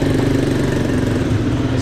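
A quad bike engine idles close by on a sunset tour over bumpy terrain in Cambodia, giving a steady, loud mid-pitched rumble throughout, with no one speaking.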